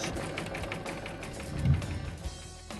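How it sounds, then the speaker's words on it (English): An embroidery sewing machine stitches letters, a quick steady mechanical whirring and clatter up close, running alone throughout. "And we'll just let the machine stitch."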